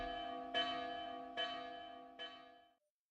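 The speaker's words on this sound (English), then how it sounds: "That's the alarm bell from the sentry tower." An alarm bell rings from a sentry tower in a fantasy video game, three resonant strikes about a second apart, each ringing out with a long, fading tone before the sound stops.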